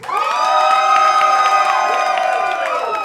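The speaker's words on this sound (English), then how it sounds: "I think the audience clapped more for Adam." Comedy show crowd in New York City roaring with cheers, whoops and high shouts, loud and sustained throughout with scattered clapping.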